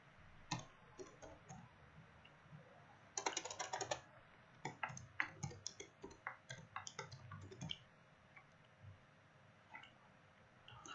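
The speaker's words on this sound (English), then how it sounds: "So let's type in China luxury here." Typing on a computer keyboard, quiet irregular bursts of key clicks and taps, sometimes rapid clusters, with pauses between, no voices.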